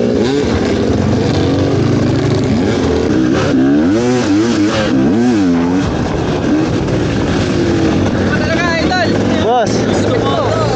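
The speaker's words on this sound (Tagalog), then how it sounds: "Kahit maputik, kayang-kaya na itong motor." An MPX300 motorcycle revs hard on a muddy test ride, its engine pitch rising and falling in repeated surges over a continuous loud drone, with a rider's voice and cheering breaking in near the end.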